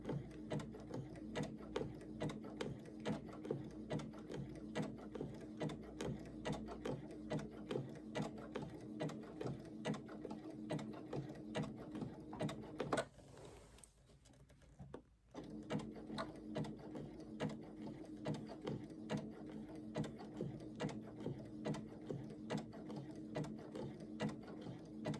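A sewing machine stitches an appliqué spring wall hanging, a fast, even mechanical hum of needle strokes running on and on, broken by one pause of a couple of seconds before the stitching resumes at the same pace.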